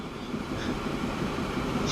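A long oil train of shiny black tank cars rolls steadily through a Transport Fever railway scene, a continuous rumbling clatter at moderate level with no talking.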